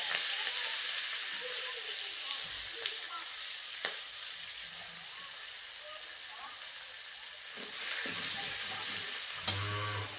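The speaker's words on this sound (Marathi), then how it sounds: "तेल गरम झाले तर तेलामध्ये मोहरी टाकायची. जिरे, गॅस बारीक करते आणि त्याच्यामध्ये लसूण आणि कोथिंबीर बारीक करून घेतलेली टाकते" Mustard seeds, cumin and garlic with chopped coriander hitting hot oil in a pan for a radish stir-fry, giving a steady broadband sizzle throughout with a few crackles and clinks, growing louder near the end.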